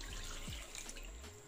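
Water poured from a container into sugar in a mixing bowl for pineapple upside-down cake batter, a steady close pour lasting the whole moment with a brief splashy trickle.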